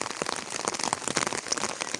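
Rain falling on a farmyard on an autumn morning, dense close patter of drops striking surfaces in an irregular steady rhythm, fairly loud and without speech.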